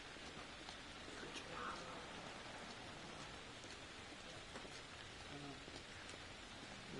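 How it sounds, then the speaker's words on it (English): Steady rain falling on surfaces in a video game, a constant soft patter and hiss at low volume with no talking. "Why is it always raining?"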